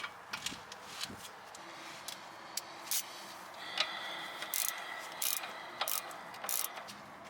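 Nut being fitted and tightened on Jaguar XJ6 front suspension during a ball joint, sway bar link and tie rod end upgrade, heard as repeated close ratchet clicks in short bursts with small metallic taps between them.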